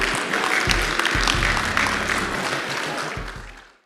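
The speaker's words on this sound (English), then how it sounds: "let's give a round of applause for the first panel speaking" Audience applause for the first panel at a conference, steady broadband clapping that gradually fades out, with low rumbling thumps underneath.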